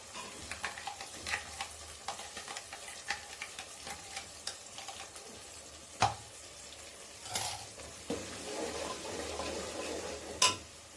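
A paste of spinach, tomato and onion sizzles steadily in a pan, a close, moderate hiss overlaid by spoon scrapes and occasional louder knocks against the pan, spaced irregularly across the stretch; no one speaks.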